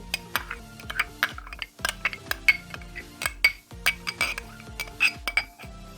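Tomato ketchup is stirred into a chicken marinade in a bowl, giving repeated sharp clinks and scrapes of a utensil against the dish in an uneven rhythm, close and fairly quiet.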